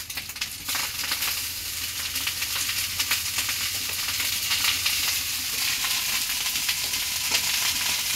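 Rice fries in a hot pan with a steady, dense sizzle throughout, close and constant, with occasional faint stirring scrapes mixed in.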